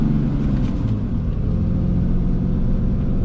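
A 2020 Ram 3500 dually pickup's engine drones under full throttle while climbing a steep hill, a continuous loud low rumble with no talk.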